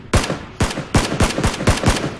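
Five sharp, booming gunshots in the video game PlayerUnknown's Battlegrounds, fired in a quick, even rhythm, loud and close, with no talking.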